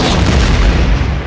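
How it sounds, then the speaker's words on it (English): A dense, sustained animated explosion effect rumbles with a heavy low boom and broadband crackle for just over a second, loud and alone with no voices. "And then I have the more actually, animated, effects explosion."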